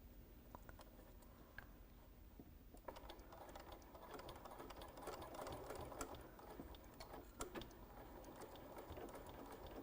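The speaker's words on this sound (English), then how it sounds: "And I'm going to back stitch across them." A sewing machine back stitching while working on a crossbody bag, a quiet, fast rattling whir that runs through the whole stretch and grows a little busier midway, with occasional small clicks.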